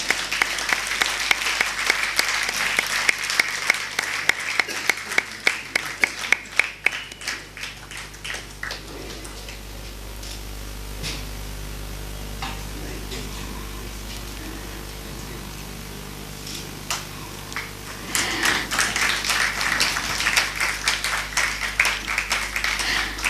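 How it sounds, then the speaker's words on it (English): An auditorium audience at an award ceremony claps for a certificate of excellence, with dense applause at first, a quieter lull with scattered claps, then a renewed burst of clapping. "Big round of applause."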